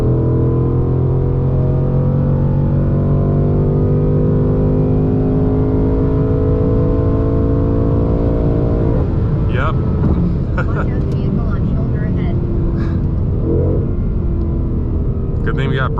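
A 2020 Ford Mustang GT running a Lund 91 octane tune revs hard past 6,800 RPM, its engine note climbing steadily in a loud interior roar before dropping off into lower rumble with brief clicks.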